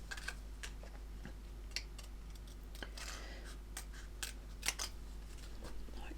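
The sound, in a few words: scissors cutting out model decals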